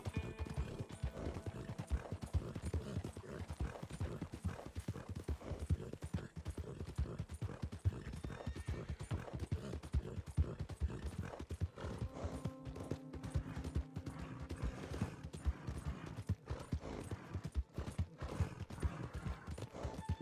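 Horse hooves clip-clopping in a steady riding rhythm in the video game Red Dead Redemption, continuous and moderately close for the whole stretch, with faint background game sounds.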